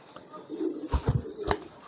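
A handled pigeon gives a few short, low coos in a quiet room, with soft rustling and a faint flutter between the calls.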